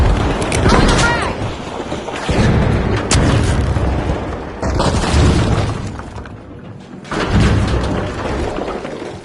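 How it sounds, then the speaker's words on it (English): Frag grenade blast in the shooter The Finals: loud booming explosions with shattering debris recur in heavy bursts across the clip, mixed with other combat noise and a voice speaking over it. "Throwing a frag."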